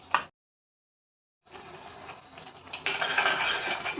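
Milk cream (the skin skimmed off boiled milk) being stirred into a vegetable curry in a pan, with a short clink, a pause of silence, then steady scraping and stirring that grows louder toward the end.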